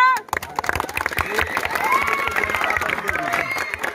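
A crowd at an outdoor election campaign gathering in a village claps and cheers, lively mixed clapping with shouts and voices throughout, fairly close and loud.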